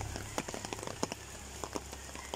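Rain patters steadily on a nipa roof during a rainy day in Carrascal, a faint dense hiss with scattered louder drops over a low hum.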